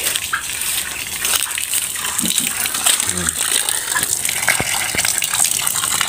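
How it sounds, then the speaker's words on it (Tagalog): Water gushes and splashes into a goat milk feeding bottle, a continuous pour with a few clinks and small knocks against the bottle, close and fairly loud. "Lagyan muna natin ng tubig."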